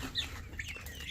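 Tiger-breed chickens and chicks cluck briefly as they are fed homemade feed, a couple of short, fairly faint clucks over a soft background.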